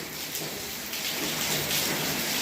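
Heavy rain pours down without pause, a steady dense hiss of drops striking surfaces, close and even throughout with no voices.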